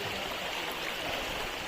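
River water flowing steadily in Quezon near where it meets the sea, a continuous broadband rush heard close with no voices.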